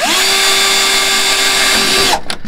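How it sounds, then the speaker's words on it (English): A power drill whines at a steady high pitch as it bores a hole through a plywood boat hull, then cuts off abruptly, followed by a couple of brief clunks. "you're going to drill the hole"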